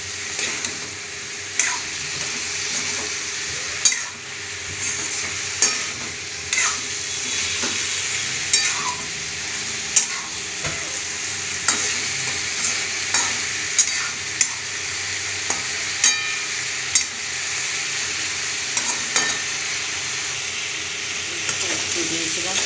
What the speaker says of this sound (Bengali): নুনটা দিয়ে ভালো করে আবার নেড়ে নেবো